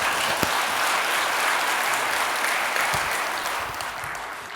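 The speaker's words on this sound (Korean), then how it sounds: "큰 박수로 모시겠습니다." A church congregation at a Sunday worship service gives a full, even applause to welcome the pastor to the pulpit, sustained for several seconds before easing slightly at the end.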